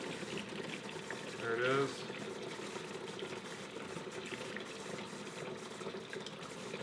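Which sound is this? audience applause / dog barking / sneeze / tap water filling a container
tap water filling a container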